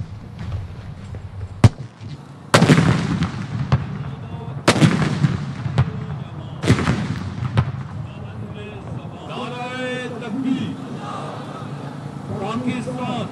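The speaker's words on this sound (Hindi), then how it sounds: "ईद मिलादुन्नबी और यौम दिफा पर तोपों की सलामी से दिन का आगाज।" Artillery guns fire a ceremonial salute in Pakistan for Eid Milad-un-Nabi and Defence Day, with about five loud, echoing booms spaced a second or two apart, followed by a voice speaking.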